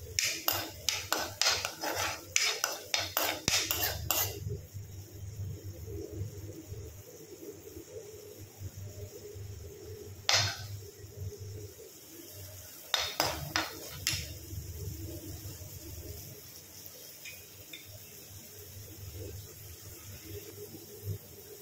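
Carrot and egg halwa stirred nonstop in a pan, with rapid metallic scraping and clanking of a spoon against the pan in fast bursts, then quieter cooking noise and two more short rounds of clattering stirs.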